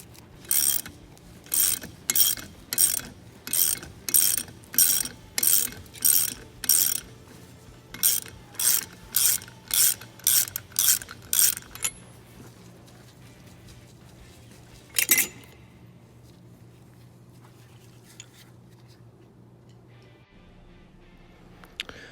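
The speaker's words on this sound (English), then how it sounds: "just put it on the top here and stick your ratchet in there" A socket ratchet turning during the teardown of a Case 504BDTI engine to the head gasket: a steady series of about sixteen loud, close, buzzing ratchet strokes, then quiet with a single later clack and faint clinks.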